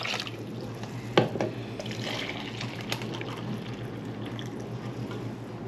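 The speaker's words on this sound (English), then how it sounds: "I'm going to pour 4 cups of water." Water pours from a tea kettle in a home kitchen, a steady trickling stream running for several seconds with a brief clink near the start.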